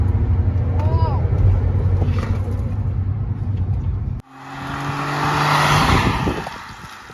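A tuned VW Polo with a Code 6 tune sits on a low engine rumble as a person talks, then launches hard with a loud, rising engine roar after a brief break.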